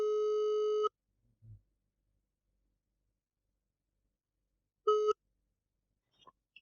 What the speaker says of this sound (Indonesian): Kita telepon aja ya langsung ya.